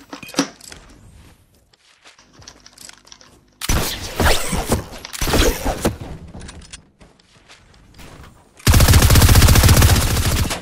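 A rapid-fire weapon in Fortnite rattles out in loud, dense bursts, with quieter thuds and clatter between volleys.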